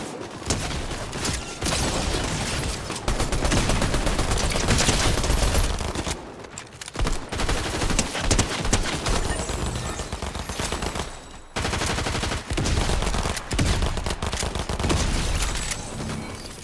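Fortnite gunfire roars as dense, near-continuous bursts of automatic fire and rapid shots, loud and close, with two short pauses.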